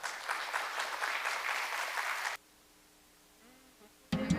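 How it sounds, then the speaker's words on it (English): An audience at the Busan International Port Conference 2021 claps after a presentation: dense, fairly loud applause for a couple of seconds, then a sudden cutoff to near silence before a short burst of sound returns. "Please give her another big round of applause."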